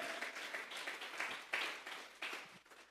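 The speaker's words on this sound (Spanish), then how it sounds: "Que se oiga un aplauso para ese Cristo que viene." Applause from a church congregation during a sermon, a steady wash of many hands clapping at moderate distance, fairly quiet, with a few louder surges and no speech over it.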